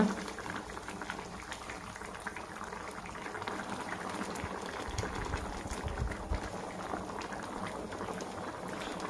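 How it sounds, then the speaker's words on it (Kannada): Kerala-style kadle gassi, a chickpea curry, boils steadily in a pot, a dense continuous bubbling and popping at close range that holds for the whole stretch with no voice over it. "ಒಂಚೂರು ಕೊದಿಯಡು"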